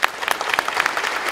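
An audience at a conference gives a short burst of dense, lively applause from many hands, fairly close and steady, with no speech over it.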